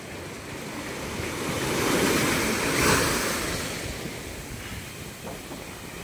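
Ocean waves surge and break on a rough sea during a strong storm, a broad continuous roar of surf that swells and fades with steady wind noise and no voices.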